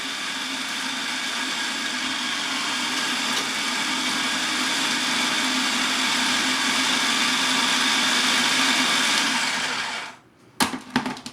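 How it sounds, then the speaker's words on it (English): Electric mixer churns shortbread cookie dough in a steady, loud, continuous whir with a gritty grinding edge, running unbroken for about ten seconds before switching off, followed by a few brief clunks. "Mix for 5 to 10 minutes and we will know when it's done."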